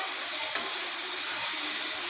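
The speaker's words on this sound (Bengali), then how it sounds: "নুনটা দিয়ে এটার সাথে ভাজবো" Chopped onion and garlic with salt fry in a pan, giving a steady close hiss of sizzling oil with one brief sharp pop near the start.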